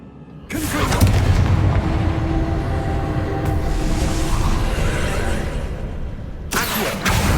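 A Confringo fire spell goes off in the Hogwarts Legacy video game, a loud booming explosion that bursts in after half a second and rolls on as a sustained rumbling roar, with a second sharp burst near the end.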